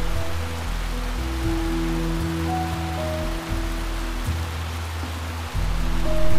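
Heavy tropical rain pours steadily in a Costa Rican rainforest, a dense even hiss of drops on surfaces with a low hum underneath, rising slightly louder toward the end.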